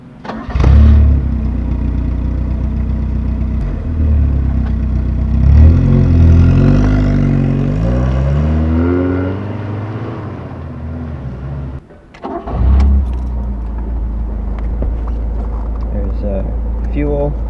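A 1977 Fiat 124 Spider engine cranks and catches, revs up and falls back, cuts out briefly, then restarts and settles into a loud, steady idle heard close by.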